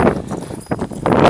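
Hooves of a single horse clip-clopping at a walk down a straight, empty road on a hill in Texas, in mild weather, with a steady rhythm of close, distinct strikes.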